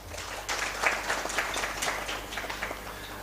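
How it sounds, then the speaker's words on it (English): A crowd claps in a steady burst of applause, loud and sustained for several seconds without speech. "we need to clap for ourselves"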